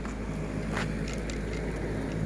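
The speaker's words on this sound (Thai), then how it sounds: "นี่นะคะ พายุกำลังมา แต่ว่า ลมมาก่อนนะคะตัวนี้นะคะ ตอนนี้ลมมาก่อนนะคะ" Gusty wind blowing ahead of an approaching rainstorm on an evening in the Thai countryside, a steady, full rushing roar with no pause across the whole stretch.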